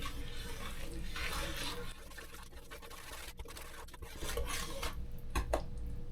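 Homemade running gel mixture being stirred in a container, a steady wet swirl and soft scraping that runs throughout, close and moderately loud, with a couple of sharp clinks near the end.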